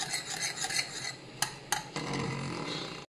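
Ghee simmers in a pot as cow-milk cream cooks down, stirred with a metal spoon. The spoon gives light scraping and clinking, then two sharp clanks, and a steady bubbling hiss follows.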